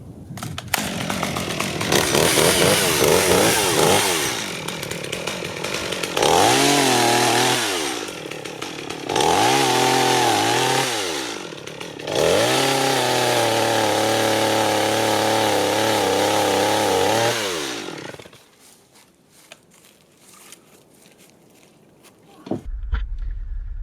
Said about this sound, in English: Trusty chainsaw.